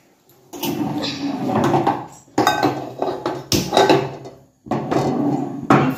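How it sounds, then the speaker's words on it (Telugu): A pan set onto a stove while cooking restaurant-style egg Manchuria, heard as several close metallic clanks and scraping clatters in short bursts separated by brief silences. "స్టవ్ ఆన్ చేసుకొని పెనం పెట్టుకొని pan పెట్టుకొని ఆయిల్ వేసుకుందాం మనం"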